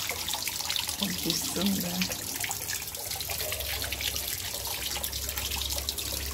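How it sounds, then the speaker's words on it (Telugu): Tap water runs steadily into a container in a home garden, a continuous close splashing hiss that lasts throughout while someone speaks briefly over it. "ఇక చూడండి, ఈ నల్ల కూడా వస్తుంది."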